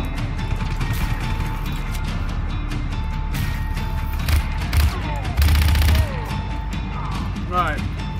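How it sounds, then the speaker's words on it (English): Enemy gunfire in the video game Just Cause 3 rattles in short bursts amid busy mechanical game noise, with one louder volley near the end and faint chirping effects. "Oh, he's shooting."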